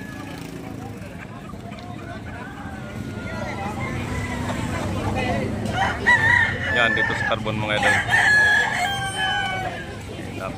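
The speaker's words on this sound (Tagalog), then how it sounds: "Napakaraming manok." Roosters crow among a large flock of chickens in a rural yard, several cock-a-doodle-doos rising midway over general clucking and babble, with someone talking throughout.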